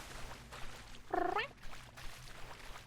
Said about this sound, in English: I feel like the cat noise is better nowadays.